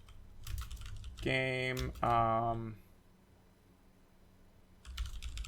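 Rapid clatter of keys on a computer keyboard in short bursts at the start and end, with a person talking in between.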